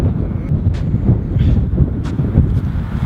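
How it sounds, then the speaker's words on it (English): Outdoor wind buffeting a microphone, a constant low rumbling roar with gusty swells and a few faint higher hisses, loud and close with no voices. "is there a corner somewhere without wind?"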